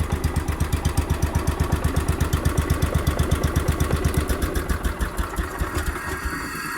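A Kohler K241 small single-cylinder engine runs steadily with a fast, even thumping exhaust beat and mechanical clatter, loud and close, easing slightly near the end.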